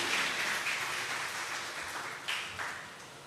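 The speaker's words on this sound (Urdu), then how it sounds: "زوردار تالیاں خدا کے جلال کے لیے" A church congregation claps together at a Women's Day sermon, a dense, steady applause that fills the room and then tapers off.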